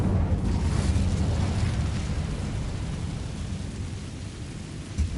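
A fire spell bursts into a deep, roaring rumble in the Hogwarts Legacy video game, a loud sustained whoosh of flame that slowly fades over several seconds.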